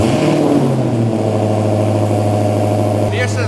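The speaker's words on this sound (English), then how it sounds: "This is my first startup in my Dodge Satan 170" A 1000 hp Dodge Demon 170 idles with a deep, steady, loud throbbing rumble, close and unbroken, with a slight lift in pitch near the start.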